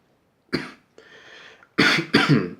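Several sharp coughs: one forceful cough, a raspy exhale, then two more harsh coughs close together, near and loud.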